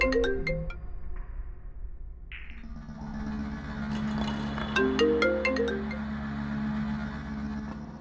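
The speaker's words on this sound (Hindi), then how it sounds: "फोन क्यों नहीं उठा रहे?" A phone ringtone plays on unanswered in an indoor scene, a clear electronic melody repeating over a quiet background, with no one speaking.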